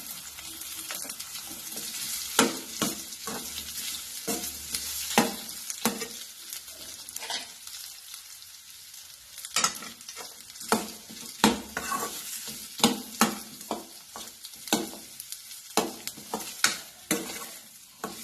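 Finely cooked boiled potato is stirred in hot oil in a pan with fried green chilies for a fasting dosa, giving a continuous sizzle broken by repeated scraping strokes of a spoon against the pan.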